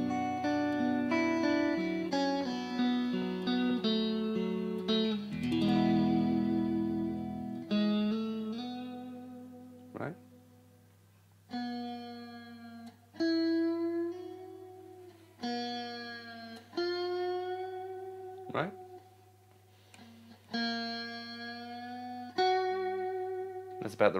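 An electric guitar solo tone drenched in reverb plays sustained notes and phrases with long ringing tails, pausing and restarting several times over a low held drone.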